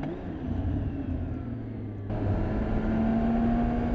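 A BMW K1600GT six-cylinder touring motorcycle engine pulls hard from around 4,500 RPM, its smooth, steady drone jumping louder partway through and then climbing in pitch as the bike accelerates, all under rushing wind.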